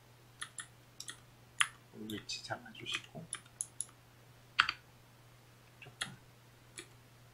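Computer keyboard keys pressed while texturing a fire extinguisher model, a scattered run of sharp, close clicks with uneven spacing, partly under someone speaking Korean and over a steady low hum.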